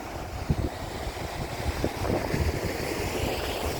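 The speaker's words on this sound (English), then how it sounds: "And we can hear the roaring of the sea." Sea waves roar against the coast below Paphos Castle in Cyprus, heard from the rooftop as a continuous broad wash mixed with gusty wind buffeting the microphone.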